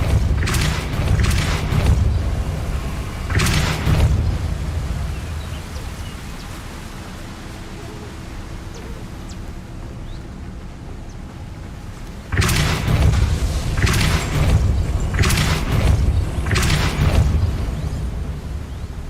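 Depulso spell impacts in Hogwarts Legacy land as heavy booming blasts in two clusters, several thumps early and another run later, each a loud low burst over a constant rumbling background.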